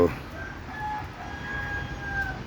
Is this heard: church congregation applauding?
no